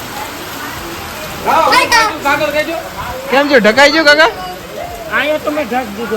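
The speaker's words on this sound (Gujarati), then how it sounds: "વરસાદ બહુ આવ્યો છો" Steady heavy rain hisses throughout while several people, including children, talk and call out over it.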